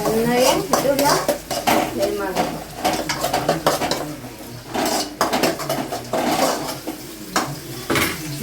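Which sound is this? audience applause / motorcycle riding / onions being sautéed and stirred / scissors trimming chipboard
onions being sautéed and stirred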